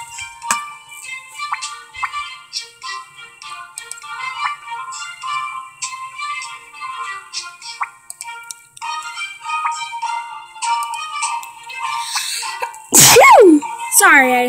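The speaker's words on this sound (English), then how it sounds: "Sorry, I had a sneeze." A single loud sneeze bursts out near the end, following a stretch of light, bright electronic tones.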